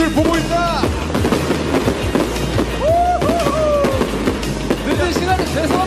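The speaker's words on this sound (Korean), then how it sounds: "이거 공연에서 보는 불꽃놀이가 짱이지" Fireworks at an outdoor concert, heard as repeated loud pops and whistling bursts amid crowd noise and nearby chatter.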